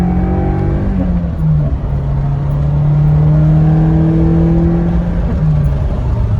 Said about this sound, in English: I'll do a pull, though, and show you the smoothness of this engine.